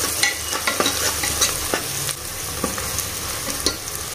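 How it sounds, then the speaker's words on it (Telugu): Onions with turmeric and pounded ginger paste fry in a pan, a loud, steady sizzle with frequent scraping stir strokes and light clinks of the spoon. "దంచి పెట్టుకున్న అల్లం పేస్ట్ వేసుకొని మంచిగా ఫ్రై చేసుకోవాలి"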